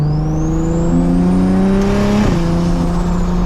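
A BMW 335i engine revs up steadily and loudly from close by on a back road, its pitch climbing as it accelerates, with a brief shift partway through.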